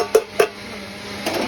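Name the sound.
pot lid being opened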